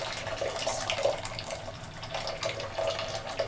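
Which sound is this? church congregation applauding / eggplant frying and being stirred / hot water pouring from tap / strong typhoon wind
hot water pouring from tap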